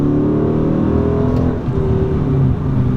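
A 2014 Dodge Challenger R/T with roughly 375 horsepower, in sport mode, accelerating hard in first gear: a loud, steady, close engine roar with rising revs throughout, no speech.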